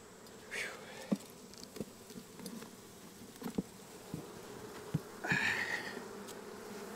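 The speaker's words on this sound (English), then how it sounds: "But of course I gotta get the bees out the way" Honey bees buzz around an open hive as it is being worked, faint scattered buzzing passing close by with light knocks and handling sounds underneath.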